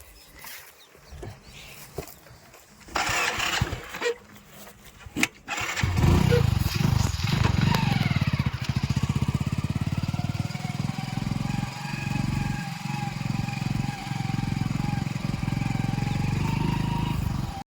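A motorbike parked at a farm field is kicked into life partway through, after some quiet shuffling, then runs loud and steady close by, its engine note rising slightly as it idles.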